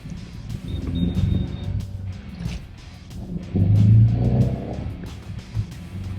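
A 2026 Mahindra Bolero engine pulling through the gears, a low rumbling drone that rises and dips with each shift, close and moderately loud, with no one speaking.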